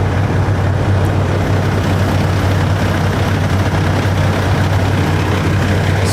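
A truck idles nearby at night in a wide open parking lot, giving off a steady, loud, low engine rumble that holds without change throughout.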